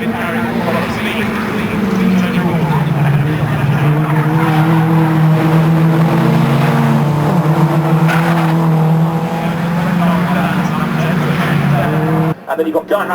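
Race cars circling the 2005 Knockhill circuit, engines droning loud and steady with shifting pitch as the field sweeps through a corner, tyre noise mixed in, and a commentator talking over the whole run.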